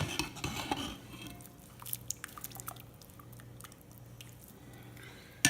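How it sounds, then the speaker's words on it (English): Hot drained ramen noodles drop into a raw egg mixture with soft wet squishes and drips, a few louder splats early on, then quieter patter and scraping, close and faint with no talk. "we're going to drop them right into the egg mixture"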